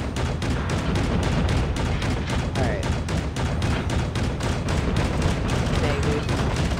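RPD light machine gun firing in a video game, a loud, continuous stream of rapid automatic shots with dense, evenly spaced cracks lasting the whole stretch.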